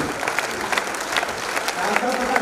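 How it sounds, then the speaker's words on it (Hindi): A standing ovation for the visiting Governor at a public welcome event in Udaipur, with a crowd clapping at moderate level, individual claps audible within a fairly steady, slightly uneven patter. "स्टैंडिंग ओवेशन जोरदार तालियों के साथ आदरणीय ओम प्रकाश जी माथुर का स्वागत करें"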